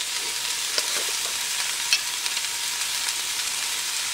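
Vegetables cook in a pan with a steady, bright sizzle, close and moderately loud, broken by a few light scrapes and taps of stirring, with no voices.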